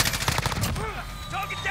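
A support helicopter firing in the Modern Warfare video game, a short burst of rapid automatic gunfire up close, followed by whining aircraft sounds and a radio voice.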